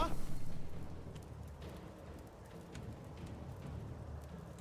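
Cleansing Rain spell in the Age of Wonders 4 strategy game, a soft continuous patter of rain with a few rumbling pulses at the start, steady and moderately quiet.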